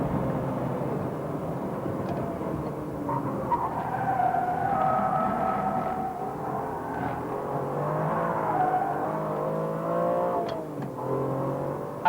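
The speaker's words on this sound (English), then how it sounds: "If you watch, I'm braking heavily now, watch the dice go forward." Onboard engine sound of a 1999 Formula One car braking heavily at the Belgian Grand Prix, a loud continuous whine whose pitch slides down and back up as the car slows and accelerates, with no voices.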